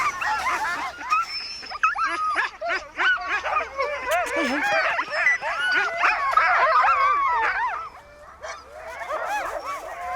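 Greenland sled dogs bark, yip and whine excitedly in a loud, overlapping chorus, with a brief lull near the end before the yelping resumes.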